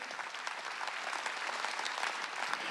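A church congregation claps during a Sunday worship sermon, a dense, even patter of many hands that is fairly quiet and distant and continues steadily throughout.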